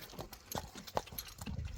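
A horse's hooves clip-clop on the ground in uneven, separate knocks that sound fairly faint, with quiet background noise between the steps.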